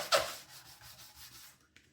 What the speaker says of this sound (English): So just a quick sand, and then the same on the front and the back as well.